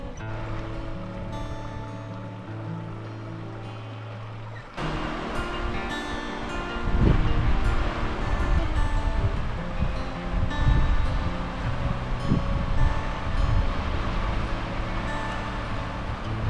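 A river in Big Bend Ranch, Texas, flows with a steady broadband wash of moving water. The sound shifts and grows fuller partway through, with some rustle and wind mixed in and no voices.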